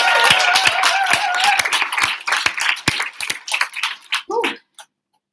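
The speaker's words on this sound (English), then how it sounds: "One more round of applause" Audience claps after a poetry reading performance, a burst of scattered handclaps over a voice that starts then fades, thinning to a few last claps before silence.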